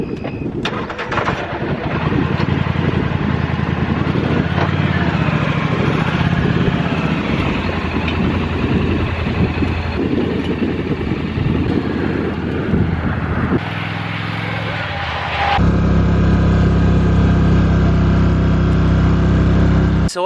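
A four-wheeler ATV running in woods while hauling a seed spreader, a steady loud engine drone with a shift in pitch and throttle partway through, close and continuous, with no talk.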